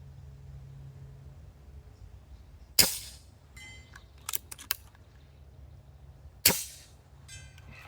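Two sharp, loud cracks from a Pinty Vanguard Classic PCP air rifle a few seconds apart, each followed by a brief echo, with faint mechanical clicks between them and no talking.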